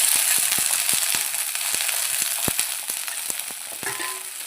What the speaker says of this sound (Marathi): तेलामध्ये असं फ्राय करून घ्यायचं